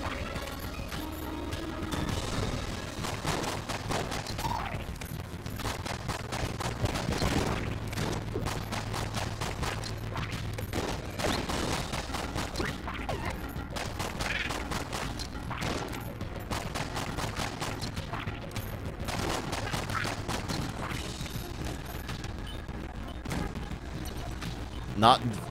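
Portable turret firing in Enter the Gungeon, a steady stream of rapid small gunshots running through the whole stretch over game music, with a voice talking on top.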